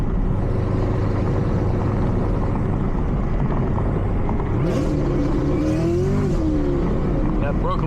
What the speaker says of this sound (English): I'll roll down the windows, I'll stop talking for a little bit, I'll drive, you can hear the tires.